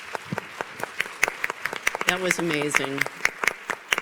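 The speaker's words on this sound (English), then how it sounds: "Let's give a round of applause for Vice Admiral Tai" An audience at a cybersecurity symposium on Capitol Hill claps with sharp, fairly close claps throughout, while a person speaks briefly over the applause midway.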